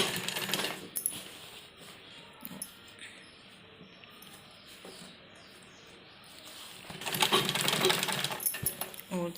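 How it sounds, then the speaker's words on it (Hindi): A sewing machine stitches a pocket onto a men's kurta, whirring in a short burst at the start and a longer, louder run near the end, with a quiet pause between. "यहाँ पर हम सिलाई लगाएंगे"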